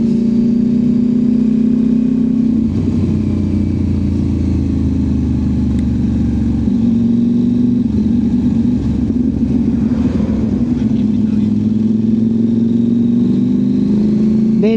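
CFMoto 800MT adventure motorcycle engine held high near its rev limiter, a loud, steady droning roar with a faint pitch wobble, close and continuous, with no talking.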